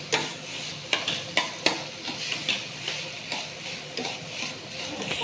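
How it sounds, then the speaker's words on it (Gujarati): Boiled wheat-flour sev stirred in a pan, a series of clear spoon scrapes and taps over a continuous sizzle, close and moderately loud, with no talking. "હવે જે સેવ આપણે બાફી હતી, અડધી મેં ગળી બનાવી હતી અને અડધી હું મેગી ટાઈપ તીખી બનાવી, એને આપણે બરાબર હલાવી દઈશું."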